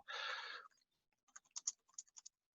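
Someone types a search question on a computer keyboard, heard as a quiet, irregular run of soft key clicks after a brief breathy rustle, with no talking.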